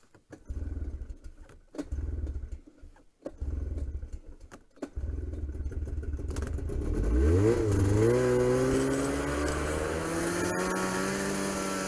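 A Ski-Doo snowmobile engine revs in bursts over swamp muskeg, then rises into a steady, loud roar as it pulls away, with harmonics sliding up in pitch.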